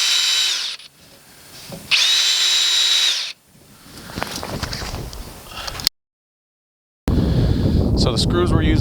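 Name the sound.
power drill pre-drilling holes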